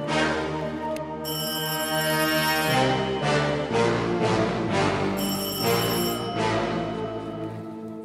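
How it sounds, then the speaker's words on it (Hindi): A telephone rings at home in a series of bright, tonal electronic ring bursts separated by short pauses, loud and close with no speech over it. "देखो, उसका ही फोन होगा।"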